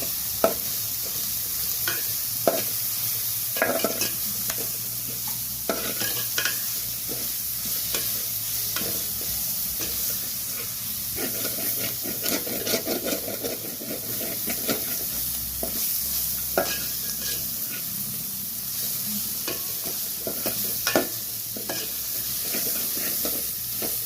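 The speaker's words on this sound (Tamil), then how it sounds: "நல்லா வதக்கிக்கணும்." Onions sautéing and being stirred in a pan for prawn curry (prawn thokku), a steady sizzle with repeated scraping strokes of a spoon against the pan, close and alone throughout.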